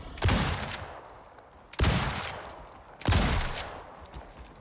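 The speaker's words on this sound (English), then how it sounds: "I love this hunting rifle. It is so much faster than the bolt action." Three loud, widely spaced hunting rifle shots fire at a crocodile in the survival game Icarus, each a sharp crack trailing into a long booming echo, with no talking.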